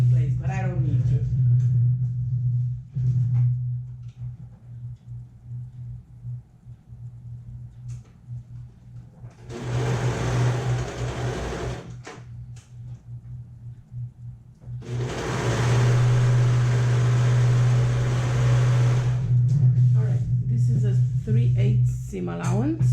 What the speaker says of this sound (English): I'm gonna go ahead and sew this together with my serger